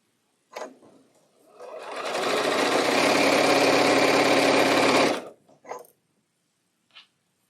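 A sewing machine stitches a pink quilt block in one continuous, close run of about four seconds, with a few small clicks just before and after.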